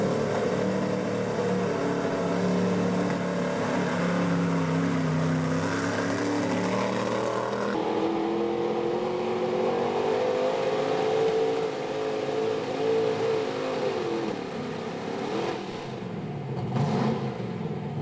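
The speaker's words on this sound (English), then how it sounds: "judging by the sound of that truck, it seems like it wasn't running quite right" A big pulling truck engine at a truck and tractor pull, not running quite right, roars and revs continuously at high load, its tone rising and falling with a rough, uneven strain, loud and close throughout.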